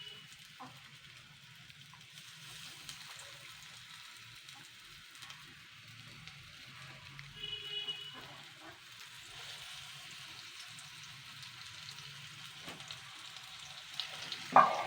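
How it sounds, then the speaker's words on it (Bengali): Lote fish pieces frying in a small amount of oil over medium heat, a soft, quiet continuous sizzle with occasional crackles and a few louder clinks near the end. "আমি কিন্তু খুবই সামান্য তেলে এগুলোকে ভাজবো"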